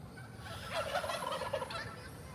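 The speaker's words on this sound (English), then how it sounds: "We got turkeys over here." A wild turkey gobbles outdoors beside a flat, empty road, a brief rattling call that rises clearly above steady background noise and then fades.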